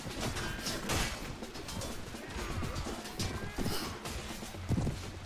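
Horses in a Mount & Blade Warband medieval battle, with steady clip-clop hoofbeats and an occasional whinny running through a dense, loud mix of battle noise across the whole stretch.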